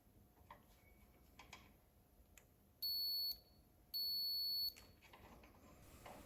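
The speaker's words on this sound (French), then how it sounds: "Vous allez entendre un bip de continuité." Two clear continuity beeps from a multimeter testing a motorcycle stator's connectors, each a steady tone lasting under a second, separated by a short gap, over quiet background with faint clicks.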